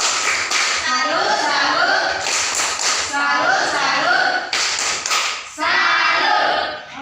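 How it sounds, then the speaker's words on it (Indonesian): A school class claps in short rhythmic patterned bursts of hand claps and taps, close and lively, mixed with children's chanting voices between and over the claps. "Luar biasa, tepuk salut"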